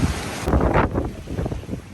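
Gusty wind at a campsite in Batangas buffets the microphone with broadband rumbling and roaring, rising and falling in waves, steady throughout with no voices.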